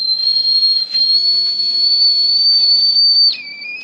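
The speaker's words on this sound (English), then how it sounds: "Go on, boil that little devil." A kettle whistles steadily on a hobo heater as its water boils, a loud, close, piercing tone that holds on one pitch before wavering and dropping at the end.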